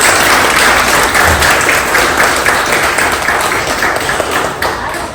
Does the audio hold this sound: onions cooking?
no